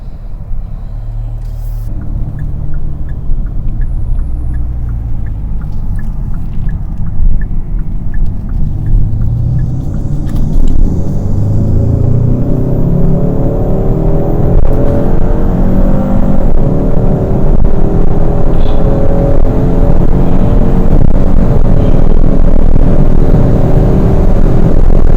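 A Hyundai Sonata N Line fitted with a cold air intake accelerates hard, its engine note rising as a close, loud, rumbling roar that grows steadily over about twenty-five seconds with no talking.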